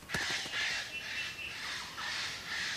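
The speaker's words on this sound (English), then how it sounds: "It screams at other birds, especially females keep away, this hollow is occupied" A female eclectus parrot in an Australian forest gives repeated harsh, grating screeches, several rasping calls in quick succession, fairly close and alone with no talk.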